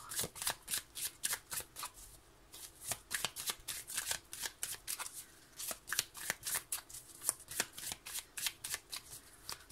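Tarot cards shuffled by hand in a long run of crisp, rapid riffles and slaps, close and clear, with almost no talk over them.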